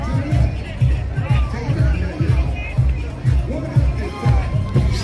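A gathering crowd of protesters in Portland fills the air with loose, overlapping chatter and babble, with nearby voices talking over the general hubbub throughout.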